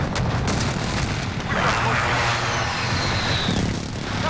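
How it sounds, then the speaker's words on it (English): A precision airstrike in Call of Duty: Modern Warfare sweeps in as a swelling roar with a jet-like whoosh and rumbling booms, set against ongoing battlefield noise and game announcer voices. "Friendly precision airstrike on the"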